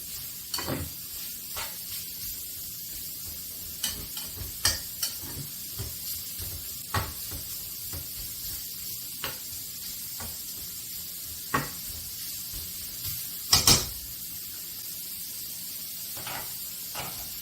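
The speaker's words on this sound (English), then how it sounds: "10 ounces of bacon that I have chopped up into small pieces. And so we're going to let this cook up." Chopped bacon frying in a pan: a steady soft sizzle with scattered pops and occasional louder clatters, heard close and alone without talk.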